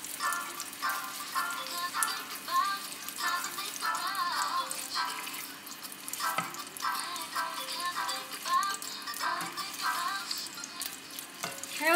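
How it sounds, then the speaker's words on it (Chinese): Beef frying in a pan, soft crackling sizzle with scattered stirring scrapes and clinks, moderately close, over a low hum. "我可以不要煎了吗？"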